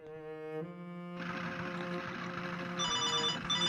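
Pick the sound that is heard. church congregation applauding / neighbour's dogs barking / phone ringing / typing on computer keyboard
phone ringing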